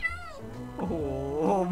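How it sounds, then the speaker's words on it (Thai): A cat in the Minecraft video game gives two distinct meows, a high falling one followed by a longer wavering cry, clear and close with no talk over it. "ร้องเหมียวเหมียวให้ฟังหน่อยสิ"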